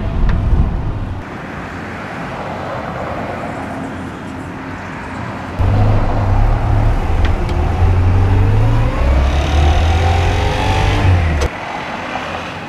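Mechanical noise from a 1947 Crosley car on the move, a steady engine drone with a low, stepped hum that rises and falls between gear changes, heard close with no talk.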